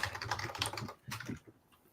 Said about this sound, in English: Half of this is just me typing